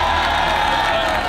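A crowd cheering and whooping loudly in a short, dense burst of voices at a real-life Squid Game style competition, steady and close throughout.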